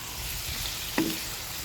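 Quiet, steady sizzling of food frying in a pan, with a brief soft clink partway through.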